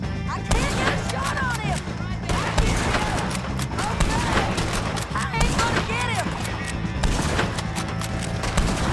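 Gunfire in a prison-break video game, including sniper rifle shots, cracks out among dense clattering impacts and steady loud game noise, with a voice speaking over it throughout.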